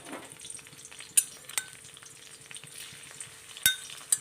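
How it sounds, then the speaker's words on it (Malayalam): Cumin seeds and crushed garlic frying in hot oil in a pan, a steady soft sizzle broken by a few sharp pops and crackles, close and without talk. "ജീരകം ഒന്ന് പൊട്ടി വരണം അതിൻ്റെ കൂടെ തന്നെ ഒരു രണ്ട് മൂന്നല്ലി വെളുത്തുള്ളി ചതച്ചത് അതിട്ട് കൊടുക്കുക"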